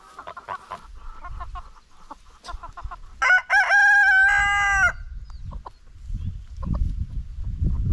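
Chickens cluck in short bursts before a rooster lets out one loud, close crow lasting nearly two seconds, then low rustling and scratching follow.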